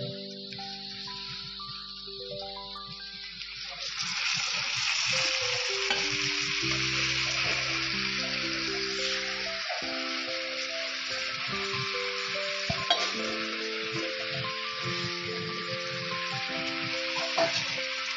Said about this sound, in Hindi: अब हम इसमें मैरिनेट किया हुआ चिकन डालेंगे।